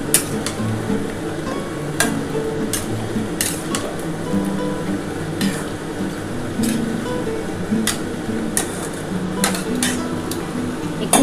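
Chicken curry with a little water is stirred and fried in a pan, giving a low bubbling sizzle punctuated by repeated sharp scrapes and clinks of a spoon against the metal.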